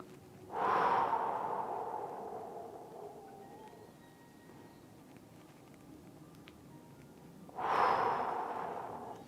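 Deep breathing during a breathwork exercise: two long, close, airy breaths, one at the start and one near the end, each a strong rush of air tapering off, separated by a quiet pause.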